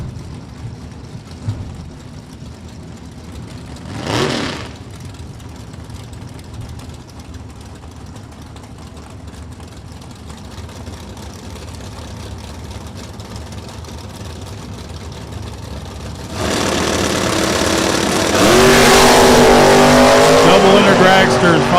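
Drag racing cars at Kil-Kare Dragway, including dragsters and a wagon, idle and rumble before a loud launch roars down the strip near the end, with a public-address announcer talking throughout.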